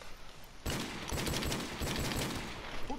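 Rapid bursts of gunfire crackle continuously after a sudden start, loud and dense, in a firefight in Call of Duty: Modern Warfare Remastered, including sniper fire.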